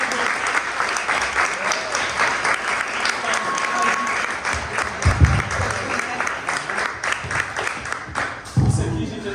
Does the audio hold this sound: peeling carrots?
no